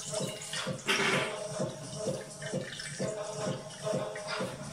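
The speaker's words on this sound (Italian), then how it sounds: "poi andiamo a mettere 400 di acqua" Water pours into a bowl for five-grain whole wheat pizza dough, a steady splashing trickle that runs throughout at moderate, close volume.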